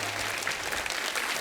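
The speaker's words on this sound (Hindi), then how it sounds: "जोरदार तालियां रीना जी के लिए हो जाए।" A studio audience on The Kapil Sharma Show claps loudly to welcome actress Reena Roy. The brief burst of dense applause is close and continuous, with a low tone under the opening half.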